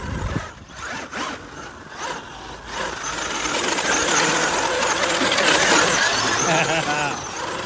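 Traxxas UDR RC truck fitted with Vitavon CVD axles and sand tires tears across sand, its whining motor and spraying grit building into a loud, steady roar after a few choppy bursts.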